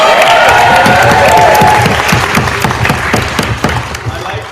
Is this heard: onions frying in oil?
no